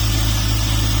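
A BMW engine fitted with an M50 intake manifold idles steadily just after starting, a constant low droning hum, close and fairly loud, with no voices.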